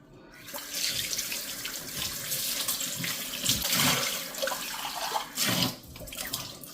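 Tap water running steadily into a sink while a utensil is rinsed and rubbed under the stream, with splashing bursts that rise and fall and no talking.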